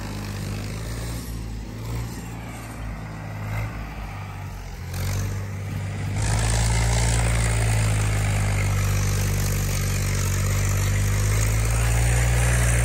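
An Agriking 2055 4WD tractor engine runs close by with a steady, rough diesel drone that grows louder and heavier about halfway through and then holds constant.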